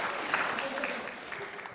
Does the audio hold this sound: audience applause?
yes